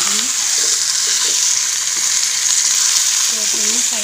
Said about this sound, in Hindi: अभी एक फ्राई पैन में मैं फिश की हेड को इस तरह से डाल दूँगी और इनको थोड़ा सा फ्राई कर लूँगी।